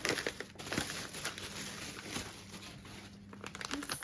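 Cardboard delivery package being cut open during an unboxing, with close, quiet crinkling, scraping and tearing of packaging in short irregular bursts.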